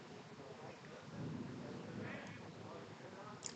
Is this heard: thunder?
yes